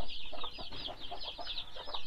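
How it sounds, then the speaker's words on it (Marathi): Several hens brooding on eggs in a shed with a metal sheet roof cluck softly in short, repeated calls, close by, over a faint background hiss. "हे 4 कोंबड्या इथं अंड्यावरती बसवलेले आहेत."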